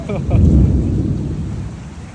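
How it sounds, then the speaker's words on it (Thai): A storm begins during a flood in rural Thailand: a loud, close rumble of thunder over a steady wash of rain, with no clear talk. "ฝนจะตกแล้วทุกคน"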